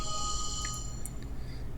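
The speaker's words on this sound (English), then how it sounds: "And that was my phone." A mobile phone rings with sustained electronic tones and a few brief higher blips, close and fairly clear over a low background hum, with no talking.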